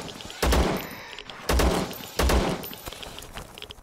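Gunfire from hollow point rounds in the video game ZERO Sievert: three heavy, booming shots spaced about a second apart, each with a short rattling tail, loud and close.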